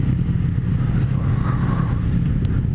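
A 2017 Yamaha FZ-09 motorcycle runs on the road, and its engine gives off a close, steady low rumble with a dense, throbbing character for the whole stretch.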